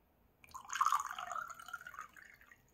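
Water pours into a small glass tumbler, a close, bubbling trickle that swells quickly and then gradually thins out as the glass fills.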